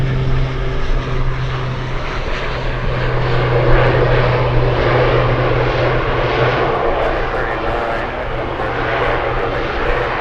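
Boeing 747 Dreamlifter freighter engines roar steadily at Anchorage airport, a loud continuous drone with a low tonal hum holding throughout, heard over a live spotting feed with faint radio chatter beneath.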